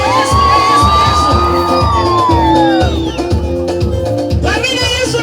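Church gospel gathering crowd cheering loudly, with high wavering ululation-like whoops rising over a dense mix of voices and a steady musical beat throughout.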